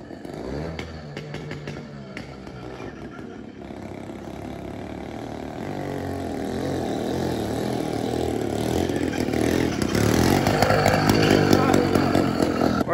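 A motorized bicycle's small engine is kick-started by pedalling and bump-starting, then runs with a buzzing, revving two-stroke-like drone that grows steadily louder, with people talking nearby.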